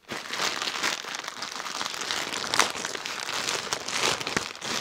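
Plastic packaging crinkles and rustles continuously up close as a parcel holding a new dress is unwrapped, a busy, crackling sound lasting throughout with small tearing bursts.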